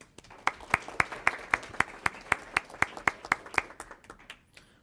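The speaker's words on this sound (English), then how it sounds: "Let's give a round of applause for the committee." At a governing board meeting, a small group applauds the committee: sparse, distinct claps in a loose steady rhythm, each sharp hit clearly audible, tapering off at the end.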